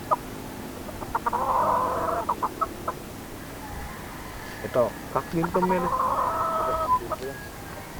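Roosters and hens cluck repeatedly nearby, with short bursts of clucking rising and falling while people talk over them.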